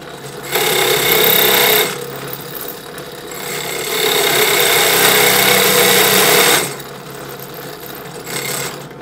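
A hole saw set for wood spinning and cutting in a workshop: loud, buzzing machine runs that start and stop, with two long bursts and a shorter one separated by quieter pauses.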